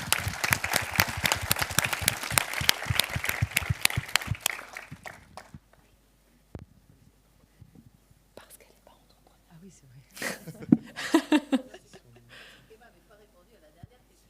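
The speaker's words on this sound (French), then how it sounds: "On peut les applaudir bien fort." Audience at a youth-and-space event claps loudly for a few seconds, a dense burst of hand claps that thins into scattered claps and fades, followed by quiet murmuring and soft voices.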